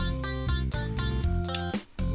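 Busy, looping chiptune-style game music from a Christmas-themed video game, bright steady melody over bass notes, playing loud and continuous with a brief dip near the end.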